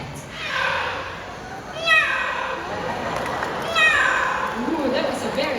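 A parrot at a bird show in Singapore imitates a cat with two drawn-out, rising yowling meows, each followed by a short pause, loud and close.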